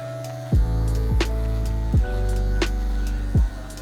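An electric hair clipper hums steadily and close at a low pitch, its tone briefly changing about four times as it is drawn lightly through a child's hair.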